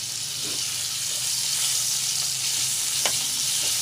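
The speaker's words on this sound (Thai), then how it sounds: "ใส่หมูลงไปก่อนเลยนะครับ อย่างแรกหมูที่ หมักไว้ประมาณครึ่งชั่วโมงนะครับ" Marinated pork coated in sweet soy sauce stir-fries in a hot pan for a Thai pork dish, a loud, steady, close sizzle with a brief metallic clink near the end.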